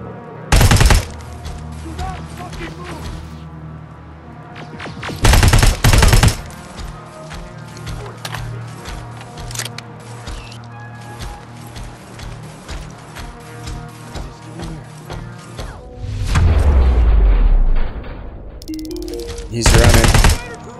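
Laser gun fire in the shooter game Terminator Resistance, several loud, dense bursts of rapid crackling shots at intervals, with game music and a speaking voice between them.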